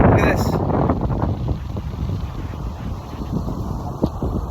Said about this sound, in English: You can hear the wind.